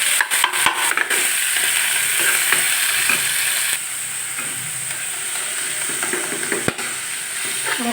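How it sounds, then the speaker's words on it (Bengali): Amaranth leaves stir-fried in a pan with onion, garlic and dried chilli, giving a steady loud sizzle and hiss throughout, broken by a few utensil clacks at the start and one later. "শাকটাকে দিয়ে একসাথে মিশে ভাজা ভাজা করে নিচ্ছি"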